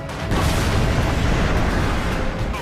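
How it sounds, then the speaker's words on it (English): Howitzer artillery fire in the World War II strategy game Company of Heroes 2 comes as a loud, dense, sustained roaring blast that fills the whole short stretch before easing off slightly at the end. "Another commander-dependent explosion delivery machine is the howitzer, which is built by your engineers."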